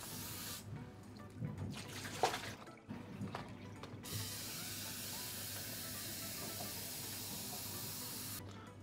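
Water rinses and fills the reservoir of a Senseo coffee maker in a steady, close hiss of running water. A few uneven bursts come first, then a continuous pour with no talk.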